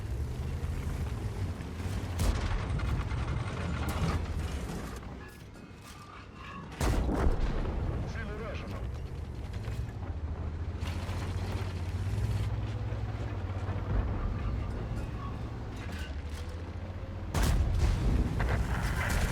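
Heavy E100 tank cannon shots in World of Tanks boom repeatedly over a constant low engine rumble, with sharp blasts near the start and several more spread through the clip, fired on the move.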